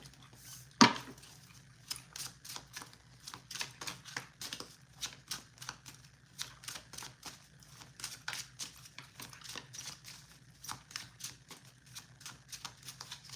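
Quiet, rapid riffling clicks and soft slaps of tarot cards being shuffled, coming in irregular bursts after one sharp tap near the start.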